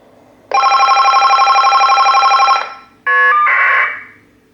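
A telephone ring comes through a lineman's test set (butt set) on monitor mode: a loud, warbling electronic ring runs for about two seconds, then a shorter burst of stepped tones and a noisy data-like buzz fades out.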